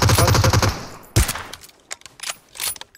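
PUBG Mobile gunfire: a quick rattling automatic burst opens, then a single sharp loud shot follows, with a few scattered fainter shots and clicks trailing after.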